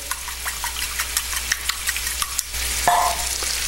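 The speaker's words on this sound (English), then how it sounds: "Go ahead and mix our eggs up here." Eggs whisked in a bowl, a quick close rhythmic tapping and clinking that grows into a louder, steadier scrape near the end, with no talking.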